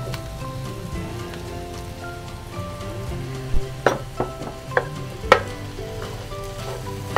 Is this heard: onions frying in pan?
yes